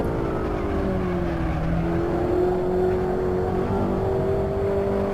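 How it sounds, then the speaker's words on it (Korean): A low, steady diesel car engine in the racing game Assetto Corsa drones continuously, its pitch slowly rising and settling, with no one talking. "디젤 엔진 소리 난다고"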